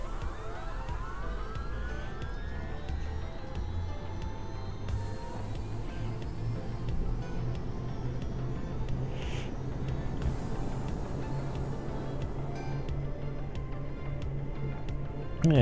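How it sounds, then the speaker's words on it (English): Aircraft engine number 1 starting up, a rising whine sweeping upward over a steady low rumble that builds and settles into a continuous drone, heard from inside the cabin without talk. "let's start engine 1."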